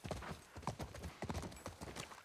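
Horse hooves clip-clop in a steady, close rhythm in The Last of Us Part 1, fairly quiet, with a brief voice and a faint whinny-like sound mixed in.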